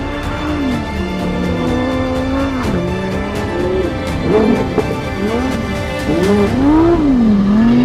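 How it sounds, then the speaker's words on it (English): Lamborghini Huracán Sterrato drifting around a corner, its engine loud and continuous with pitch swinging up and down as it revs, plus some tire noise; no one talks. "You drift the car easy around the corner."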